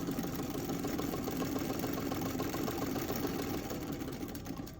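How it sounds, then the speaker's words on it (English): A sewing machine top stitching a tucked edge on a blouse made from an altered men's polo shirt runs with a continuous fast mechanical whir and rapid needle rattle, steady and close, with no talking. "So I just tuck it about 1/4 of an inch and then top stitch it."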